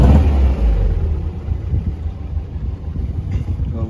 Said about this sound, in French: Démarreur avec une tirette, on tourne la clé, on met le contact.